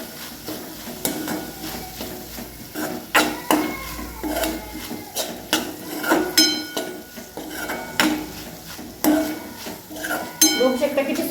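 A spoon scrapes and clinks against a pan while roasted drumstick pods are stirred into a spice masala, in irregular metallic knocks and scrapes with a faint sizzle underneath.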